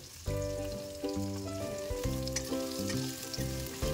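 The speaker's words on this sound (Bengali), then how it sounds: "তারপর দিয়ে দেব কুচি করে রাখা পেঁয়াজগুলি।" Chopped onions frying in oil with dried red chillies, a steady sizzle running beneath louder melodic music throughout.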